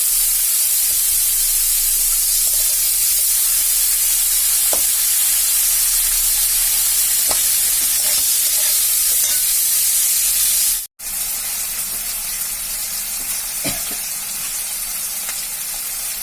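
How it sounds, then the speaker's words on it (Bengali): Onion, garlic and green chili fry in oil in a wok for a red spinach dish, a loud, steady sizzle and hiss with occasional stirring scrapes that holds for the whole stretch apart from a brief break near the end. "পেঁয়াজগুলো ভালো করে লাল লাল করে ভাজা হবে"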